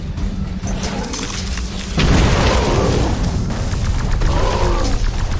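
Plasma gun fire and explosions in The Riftbreaker video game, booming blasts that swell and continue as a dense rumbling barrage, loud and close.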